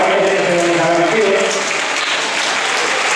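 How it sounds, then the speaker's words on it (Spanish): Enthusiastic audience applause for Eduardo Gallego at a Banda de Manzanares concert, a dense, loud, steady roar of many hands with faint voices mixed in. "vamos a pedir un fortísimo aplauso para de nuevo Eduardo Gallego"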